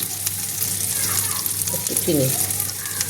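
Pointed gourd fries in a pan with a close, dense sizzle, faint spoon scrapes and a brief murmur of background voice partway through.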